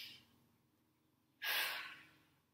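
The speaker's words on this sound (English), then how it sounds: "everyone take a deep breath in with me" A single deep breath drawn in during a trombone stretching and breathing exercise, a soft rushing inhale that swells suddenly and fades, close and alone after a quiet stretch.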